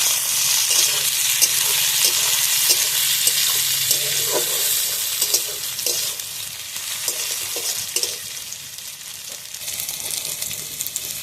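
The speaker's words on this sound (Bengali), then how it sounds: "এবার টমেটোটাও দিয়ে দেবো, টমেটোটাও একটু ভালোভাবে ভেজে নেবো।" Onion and tomato fry in a pan, a close, steady sizzle broken by the scrape and clatter of stirring, with no talk.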